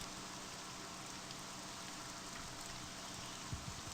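Rain falling in a video game, a faint, even hiss of steady rainfall with a few soft patters near the end, heard alone.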